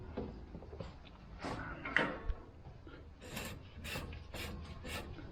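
A Polaris RZR shock adjuster collar is turned by hand on clean, loose threads, giving faint, intermittent rubbing and scraping with light mechanical clicks.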